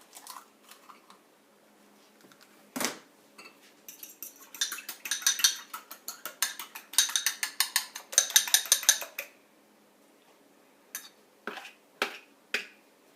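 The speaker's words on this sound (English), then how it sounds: "the egg needs to be beaten" An egg being beaten for pie crust, heard as quiet bursts of rapid fork or whisk ticks against a bowl, with a few isolated clinks in the pauses between.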